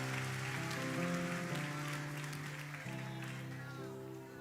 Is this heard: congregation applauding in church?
yes